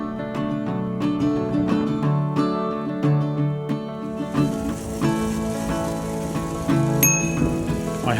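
Repeated bright rings of a bicycle bell on a cycleway in Nuneaton, several dings spaced through the clip over steady outdoor background noise, fairly close and clear.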